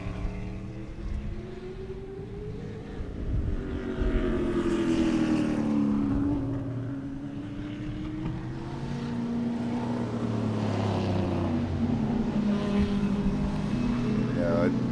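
Race cars at Sebring, including a prototype and door-slammer cars, droning past in long rising and falling engine notes that swell and fade at a distance, with people talking over them.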